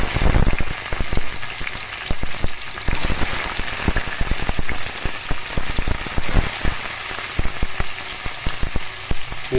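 Onion fries in hot oil in a pan for a beetroot gravy, crackling loudly and densely with sharp popping spatters close up throughout.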